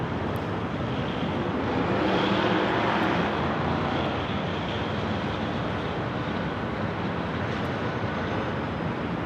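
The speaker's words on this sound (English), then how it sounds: "Next arrival is at Delta 767" A Delta Boeing 767 airliner arrives at LAX from JFK, its broad steady engine roar swelling slightly early on and then holding at a loud, even level without pause.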